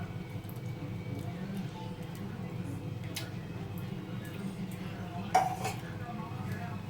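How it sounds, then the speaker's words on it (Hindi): Custard powder mixed in milk is poured into a pot and stirred for mango custard, heard as quiet, steady scraping with light utensil taps and one sharper clink against the pot. "इस तरह से डालना है और चलाते रहना है"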